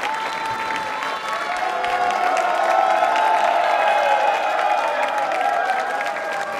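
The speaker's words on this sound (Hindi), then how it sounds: "जोरदार तालियां बजाइए" Loud, sustained applause from a large crowd at a yoga quiz show, steady clapping that fills the whole stretch without letting up.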